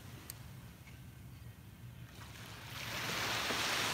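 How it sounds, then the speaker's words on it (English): Ocean waves roll onto a beach, a faint, steady wash that swells into a louder, fuller surge of breaking surf toward the end, with no voices. "the sound of the waves"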